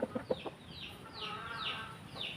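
A White Kelso gamefowl rooster gives several quick low clucks, followed by a run of rising chirpy calls, close and fairly quiet in a backyard.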